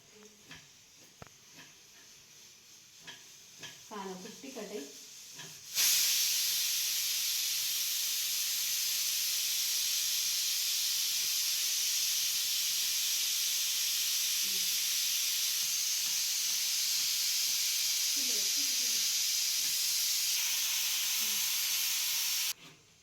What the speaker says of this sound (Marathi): मस्त कुकर लावून कमीत कमी आपल्याला पाच ते सहा शिट्ट्या करायच्या आहेत